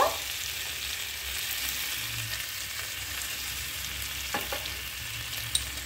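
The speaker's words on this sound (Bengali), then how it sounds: "দিয়ে দিচ্ছি কাজু বাদামের পেস্ট। ভালো করে আবারও নেড়ে নিচ্ছি।" Potato and pointed gourd stirred in a pan with cashew paste for a village-style patal paneer dish, giving a steady soft sizzle with faint scraping, a few clear spoon knocks near the end, no talking.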